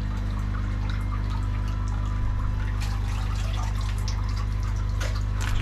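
Water rinsing koi pond filter media baskets outdoors, a steady close splashing and trickling with scattered drips running for the whole span, alone with no talk.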